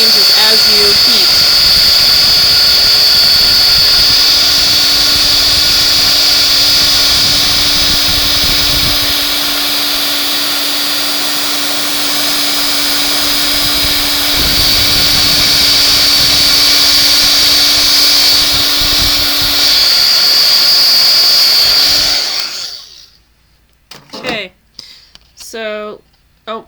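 A handheld heat embossing tool melts gold embossing powder on stamped card. It makes a loud, steady, close blowing whir for about 22 seconds, then cuts off, leaving a few brief rustles and handling noises.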